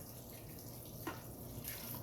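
Water from a 32-ounce container poured into a pot of potato broccoli soup, a steady soft splashing and trickling stream heard close and fairly quiet throughout.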